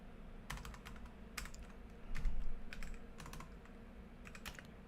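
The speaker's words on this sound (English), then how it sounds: "I'm typing signal for you today" Typing on a computer keyboard: quiet clusters of key clicks come in short bursts with pauses between them, close by and soft, with no talk.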